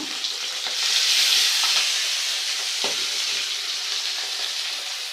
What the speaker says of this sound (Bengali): এই যে মাছ আমি এখন দিয়ে দিব দেখো মাছ এমন ফুটতেছে